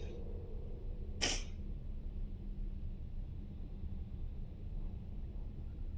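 A single short sneeze from someone with a cold, a brief burst near the start, then only low steady background noise; no talking.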